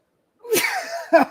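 A single sharp sneeze, a quick inhale followed by an explosive burst, close to the microphone in otherwise quiet surroundings.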